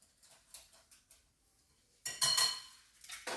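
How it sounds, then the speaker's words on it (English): An egg beaten with a utensil in a bowl, light clinking taps at first, then a louder burst of rapid metallic clatter near the end. "beat the egg right there"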